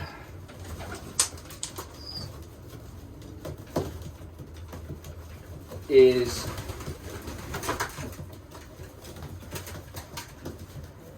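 Racing pigeons coo softly in a loft, with one louder burst of cooing partway through. Faint wing flaps and shuffling are heard, and someone speaks briefly.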